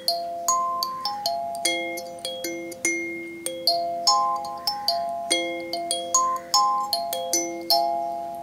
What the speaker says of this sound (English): It's a smaller version of a kalimba